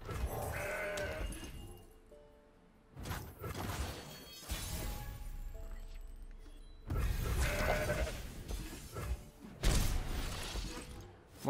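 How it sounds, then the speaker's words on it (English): Mountain goats bleat repeatedly in the Legends of Runeterra card game, several wavering cries spread across the stretch between bursts of shattering and mechanical game effects. "More goats."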